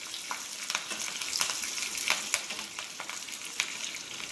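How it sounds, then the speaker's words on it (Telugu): Crushed garlic, cut dry red chillies and curry leaves fry in hot oil with a steady bright sizzle, broken by a few close stirring scrapes, fairly quiet and with no voices. "కరివేపాకు అన్నీ ఫ్రై చేయాలి."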